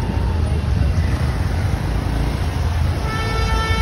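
Dense, jammed road traffic near road works rumbles steadily, with sustained car horns honking through the low engine drone.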